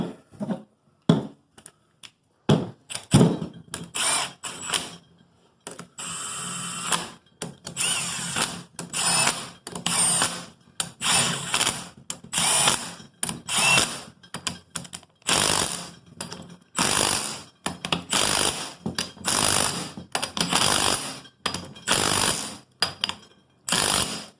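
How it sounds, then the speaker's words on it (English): An impact wrench drives differential bolts back in on a Honda CR-V/Element/Crosstour rear limited-slip differential install, firing in loud, close, repeated hammering bursts separated by short pauses. "was able to take these bolts off with this impact, so I figured I might as well just put them back on too"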